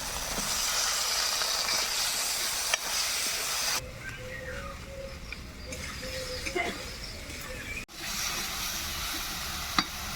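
Chopped tomatoes hit hot oil with spices while cooking a koi fish curry, a loud steady hiss and sizzle that drops and softens as they settle, with occasional stirring clicks and a brief clatter.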